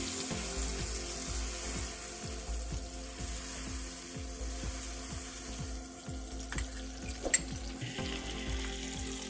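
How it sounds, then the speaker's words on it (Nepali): Butter melts with steady sizzling in a small hot pan, close and continuous, with a regular soft knocking underneath and no voices. "अब म यो कोरेसो गरेर राखेको बटरलाई चाहिँ यहाँ तताएको एउटा सानो भाँडामा यसरी मिलाउँदैछु"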